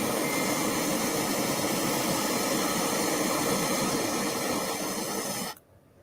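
A big boat passing on a muddy river, its engine a loud, steady broadband roar with hiss that holds for over five seconds, then cuts off abruptly to near silence.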